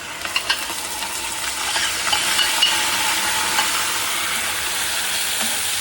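Soaked rice stirred into a hot tempering of cumin and curry leaves in oil, producing a continuous close sizzle and scraping stir that grows slightly louder after the first couple of seconds, with no voices.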